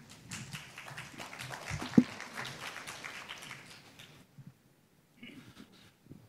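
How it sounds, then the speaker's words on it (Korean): Scattered audience applause at a labor law symposium, light clapping from a modest crowd with one loud thump midway, tapering off into near silence and faint movement. "큰박수부탁드리겠습니다"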